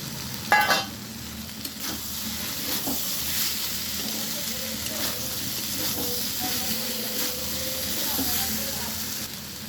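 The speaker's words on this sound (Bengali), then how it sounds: "এবারে আমি ভেজে রাখা মিষ্টি কুমড়োটা দিয়ে দিচ্ছি।" Fried sweet pumpkin pieces go into a hot pan of spices and are stirred, a soft continuous sizzle with a sharp clatter near the start and scraping utensil strokes, heard close.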